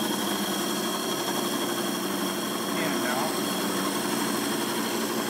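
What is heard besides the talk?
lapidary core drill drilling stone sphere preform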